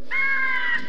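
A crow caws in the video game Glover, a single drawn-out harsh caw, loud and close, standing alone.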